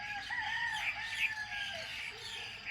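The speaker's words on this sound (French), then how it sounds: "Ces langages des oiseaux, des coqs" Roosters on Moorea crow in overlapping calls, one after another, moderately distant against a quiet background.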